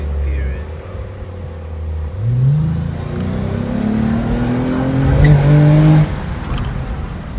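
A Lexus RC350 fitted with a Greddy exhaust accelerates on a drive, its engine note rising through the gears in steady, loud pulls, heard from inside the car.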